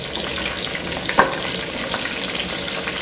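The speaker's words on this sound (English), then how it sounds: "So I'm gonna put them all inside and let them fry for a little bit. So the spices are kind of frying up." Whole spices with fenugreek and coriander leaves frying in olive oil in a pan, a close, steady crackling sizzle with a brief stir or clink partway through.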